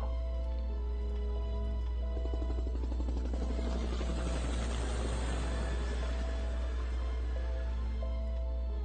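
A steady low rotor drone swells as broad rushing noise builds and peaks mid-way, like a helicopter drawing nearer, then eases slightly.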